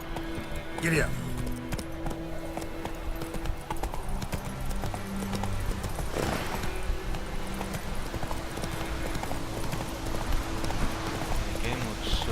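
Horse hooves clip-clopping at a run in The Witcher 3: Wild Hunt on PC, a steady rhythm through the whole stretch with a brief whinny near the start, mixed with in-game music and ambience while someone talks over it.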